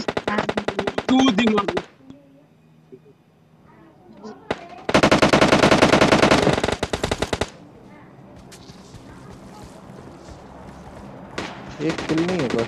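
Rapid automatic gunfire from a shotgun in the mobile game PUBG Mobile Lite, in loud repeated bursts separated by quieter gaps, with someone talking in between.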